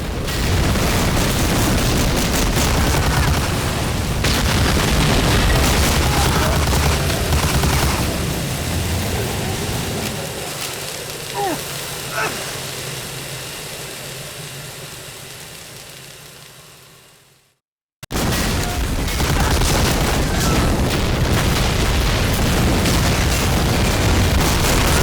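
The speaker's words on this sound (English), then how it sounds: "All the explosions," Dense, continuous rumbling blasts of explosions in Medal of Honor: Warchest, loud and roaring, fading out before cutting to silence and then roaring back.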